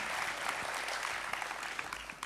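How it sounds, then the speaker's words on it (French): Audience clapping at an opening ceremony, a brief burst of fairly faint, even applause with scattered sharper claps. "Si vous pouvez l'applaudir"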